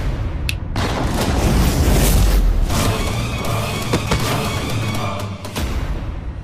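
A loud, sustained explosion sound effect in a Hindi TV drama rumbles with a heavy low boom, then holds a dense roar with crackling bursts for several seconds before tapering slightly.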